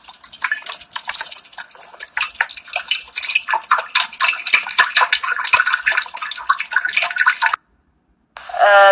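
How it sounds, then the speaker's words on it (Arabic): Warm water is poured into an Edison bread maker, a steady close splashing trickle for several seconds. It stops briefly, then another short pour follows. "طبعا اول شيء نحط الماء الدافية"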